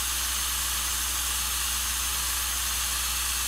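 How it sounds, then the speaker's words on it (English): Injector steam on a Southern Ps-4 #1401 steam locomotive in Trainz Railroad Simulator 2019 rushes in a constant, even hiss, bright and unbroken throughout with a low hum beneath. "And then we got injector steam."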